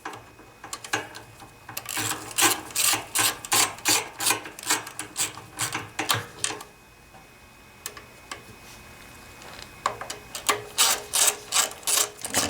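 Ratchet wrench with a 10mm socket tightening bolts on a Generac Centurion 3250 generator, giving rapid close-up clicking strokes in steady bursts with a short pause midway.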